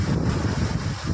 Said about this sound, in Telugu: వావ్, ఈరోజు వచ్చే నీరు చాలానే ఉంది, గాలి కూడా విపరీతంగా ఉంది